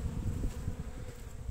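Honey bees swarm at an open hive during queen-rearing work, their dense, even buzzing close and continuous with no voices.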